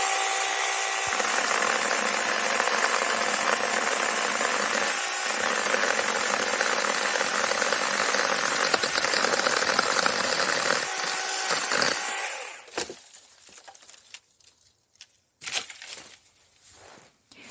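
A cordless electric chainsaw cuts through dry, hard wood outdoors on a common lot, giving a steady, loud whining buzz for about twelve seconds before the motor stops and a few knocks and rustles follow.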